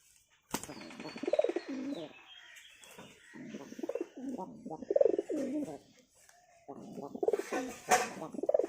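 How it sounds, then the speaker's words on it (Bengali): A pet hunting pigeon coos in repeated soft, throaty bursts close by, with a sharp knock near the start and brief chirps mixed in. "তোমার শিকারি পায়রাটা দেখো"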